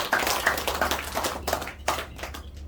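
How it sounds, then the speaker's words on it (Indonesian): A small audience at a product presentation claps in short uneven bursts, the separate hand claps close and distinct before trailing off. "Boleh tepuk tangan buat kita?"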